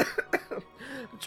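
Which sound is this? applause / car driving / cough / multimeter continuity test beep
cough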